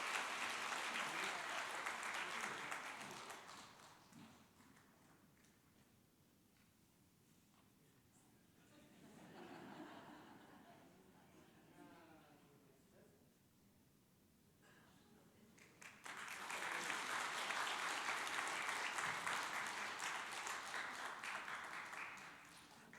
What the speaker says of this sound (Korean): 우리 힘차게 축복의 박수를 보내주시면